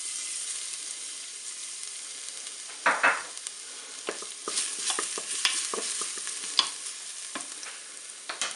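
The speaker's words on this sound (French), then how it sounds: "Mon huile est chaude, je vais mettre l'ail dans la cuve." Garlic sizzles in hot olive oil inside a Cookeo multicooker pot, a steady soft crackle broken by a few sharper pops and stirring scrapes, close by with no talking.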